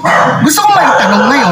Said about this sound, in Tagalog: pasensya na po sa aso namin na tumatahol